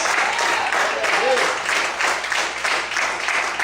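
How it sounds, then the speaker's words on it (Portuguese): A church congregation at an evening service applauds in praise, a loud, dense wash of clapping mixed with voices calling out from the crowd. "Mais aplausos para Deus."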